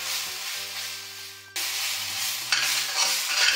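A fish head sizzles in hot spice paste while being stirred, with a steady close frying hiss broken by scraping stirs and a sudden louder burst of sizzle partway through.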